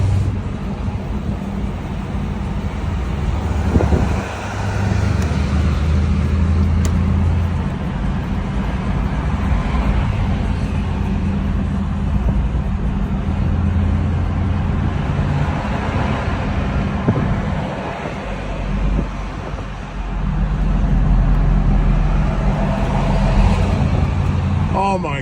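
Road traffic heard from inside a car in slow congestion, a continuous low rumble of engines and tyres with passing vehicles swelling and fading, people talking over it.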